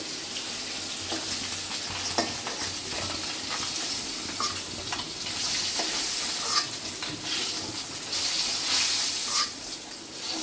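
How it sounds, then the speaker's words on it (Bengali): Koi fish fry in hot oil in a wok with a steady, loud sizzle and crackle, broken by occasional sharp clicks and scrapes. "মাছগুলো ভাজা হয়ে গেছে।"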